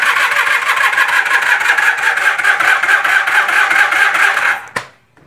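A motorcycle starter cranks rapidly and rhythmically for several seconds without the engine catching, then cuts off abruptly into quiet.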